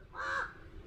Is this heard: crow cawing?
yes